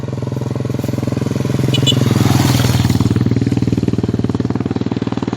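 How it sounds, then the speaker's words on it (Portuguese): A motorcycle passes close by outdoors, its engine note swelling as it approaches and fading as it goes, with rattly mechanical clatter under a steady pulsing exhaust drone. "Vou esperar essa moto passar aqui."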